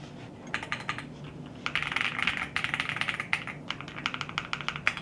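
Clacky switches on a modded mechanical keyboard are typed in quick bursts, bright crisp keystrokes close up and alone, pausing briefly before resuming.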